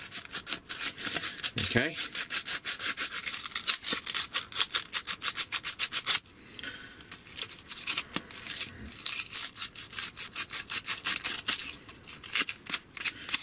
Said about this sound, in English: Bit of sandpaper. Yeah, because we want nice shiny metal